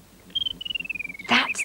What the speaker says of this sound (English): That's the song of the lark.